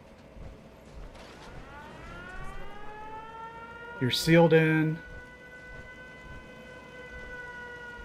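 A settlement alarm siren in Fallout 4 wails steadily in the background, its rising tones sustained throughout, while a voice speaks briefly over it midway.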